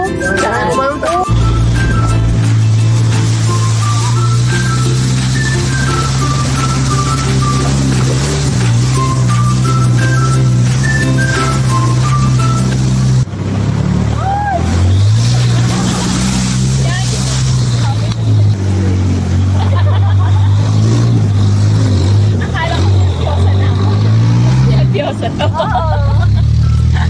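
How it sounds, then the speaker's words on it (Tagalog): Busy road traffic near Mt Pinatubo in the Philippines, a continuous loud engine drone with shifting motor tones and a babble of voices mixed in throughout. "Traffic tayo, traffic."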